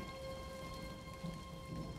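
A thunderstorm brings steady rain hissing over a low rumble of thunder, with a faint hum running through it and no voices.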